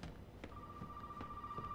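A telephone rings in the horror game Resident Evil 7, giving a steady electronic tone that starts partway through and keeps sounding at moderate loudness over a faint background with soft knocking footsteps.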